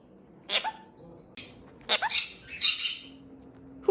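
A pet budgie gives a few short, bright chirps and squawks, close and clear, spread across a few seconds in a quiet room with long pauses between calls.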